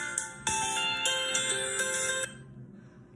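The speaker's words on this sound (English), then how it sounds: "Phone call." A phone ringtone plays for an incoming call, a loud, bright repeating electronic melody that rings for about two seconds and then cuts off, with no talking over it.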